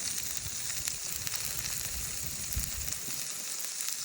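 Broccoli, peppers, onions and carrots sizzle steadily in coconut oil over an open fire, a continuous bright frying hiss with soft scraping and clatter as they are stirred, close and unbroken throughout.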